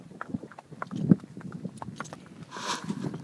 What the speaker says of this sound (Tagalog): Ayan, naglapitan na yung mga kabayo.